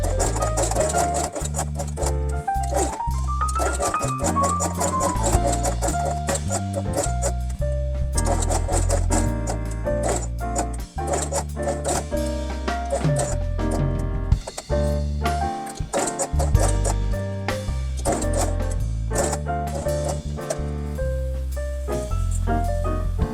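A sewing machine stitches felt pieces for a quiet book, its rapid mechanical whirring running under a steady music track, with short stops and restarts.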